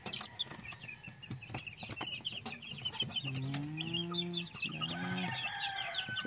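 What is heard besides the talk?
golden boy sweater chicks chirping and clucking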